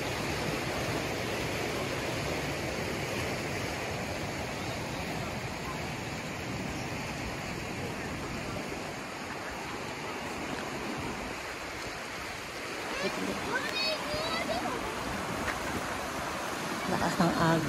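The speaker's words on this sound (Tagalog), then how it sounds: "Lakas ng Agos." A strong river current near Lake Louise rushes in a steady, broad roar throughout, with faint voices and scattered clatter rising near the end.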